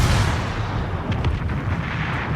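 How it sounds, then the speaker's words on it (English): A torpedo strike explodes against a ship in a naval warfare game, a heavy, rumbling boom that rolls on as a continuous roar with a few sharper crackles, loud and alone. "Yeah, Nakamov nails him with a torpedo strike."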